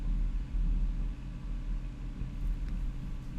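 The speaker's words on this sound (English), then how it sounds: "Oh, that thunder's really coming now." Distant thunder rumbling during a storm, a continuous low, heavy roll that swells and eases without ever fully stopping and carries on alone with no voices.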